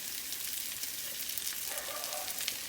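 Cod fillets fry in a large pan with a steady, close sizzle and crackle that holds evenly throughout, with no talking.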